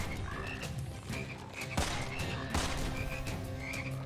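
Frogs croak in the first-person shooter Immortal Redneck, with repeated short croaks scattered over steady game noise and a couple of sharp gunshot bursts cutting through.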